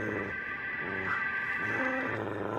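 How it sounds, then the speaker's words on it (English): A dog growls low and steadily for a couple of seconds, a rumbling snarl in an animated dubbed scene, close and continuous with no talk over it. "This must be a dog."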